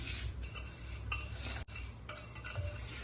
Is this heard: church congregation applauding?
no